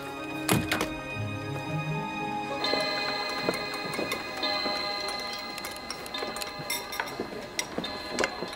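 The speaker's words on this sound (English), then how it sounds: "Looks like your alarm clock's slow again." Alarm clock ticking steadily in a quiet room, a clear, even run of close mechanical ticks with a faint tonal hum beneath, no voices heard.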